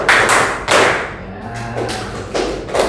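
A group claps hands together in a counted rhythm during a teachers' training session, several loud, sharp thumping claps spaced irregularly, with a faint low hum underneath.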